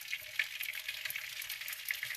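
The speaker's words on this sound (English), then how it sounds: "let me know if you guys can hear that sizzle." Sourdough pasta deep-frying in hot oil gives a steady, close crackling sizzle with quick bright pops scattered throughout and no voices.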